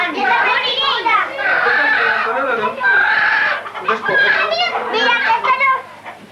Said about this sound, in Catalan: La gallina, gallina.